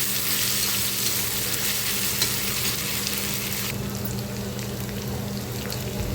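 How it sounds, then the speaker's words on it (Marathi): Crushed green chili paste sizzles loudly in hot oil in a pan, a dense, steady crackling hiss with no voices heard over it. "हे हिरवी मिरचीचा ठेचा आपण बनवलेला तोही तेलामध्ये टाकायचा आहे व्यवस्थित परतून घ्यायचा आहे"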